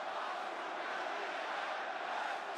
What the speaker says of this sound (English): the crowd's coming alive here